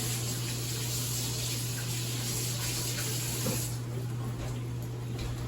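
Tap water running steadily in a kitchen sink while hands are rewashed during French toast making, a constant close hiss over a low electrical hum.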